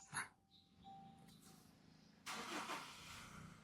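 A 2022 Toyota Fortuner Legender 2.8 Black Top 2WD is started from inside, with quiet shuffling followed by the engine catching partway through and settling into a soft, steady idle.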